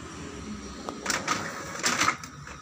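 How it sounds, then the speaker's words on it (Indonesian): An Epson L3110 inkjet printer printing a test page, its mechanism sounding in faint whirring passes with a few louder bursts of carriage and paper movement, heard close up with no talking. "Sekarang kita coba cetak sesuatu ya. Kita pilih di bagian print test page."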